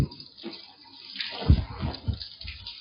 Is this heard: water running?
yes